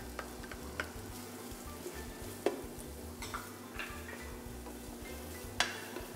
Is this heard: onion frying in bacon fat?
yes